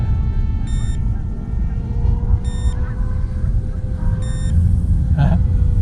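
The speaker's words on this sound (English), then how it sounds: "I really apologize for the beeps" Three short, high electronic beeps from a radio-controlled plane sound at regular intervals over a steady rumbling background, with a voice speaking briefly near the end.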